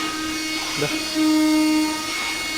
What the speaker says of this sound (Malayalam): ഇത് മെഷീനിലാണ് കട്ട് ചെയ്യുന്നത്